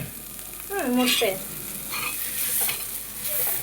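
An egg and onion mixture with green chilli, salt and oil fries in a pan, giving a close, crackling sizzle with scraping stir strokes and a few short voice-like sounds over it.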